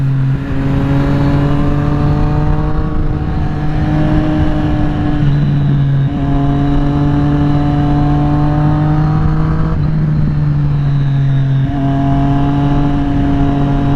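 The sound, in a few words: 2020 Triumph Street Triple RS motorcycle riding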